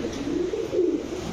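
Pigeon cooing at a pigeon farm, a soft low warbling coo rising twice in quick succession, close and clear, with no talking.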